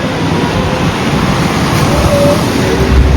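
Water rushes through a slightly opened dam at Haridwar in a constant, loud, dense roar that holds steady throughout, with no voices.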